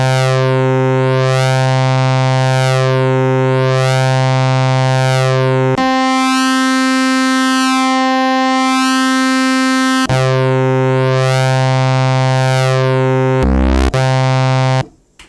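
A bright, buzzy single-oscillator tone from a Roland V-Synth sustains and sweeps with a wobbling filter, shifting pitch in sections before abruptly cutting off at the end.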